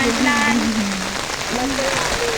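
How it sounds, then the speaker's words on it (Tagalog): Heavy rain pours in a dense, steady hiss close by, loud throughout, while someone talks over it. "Ang lakas ng ulan."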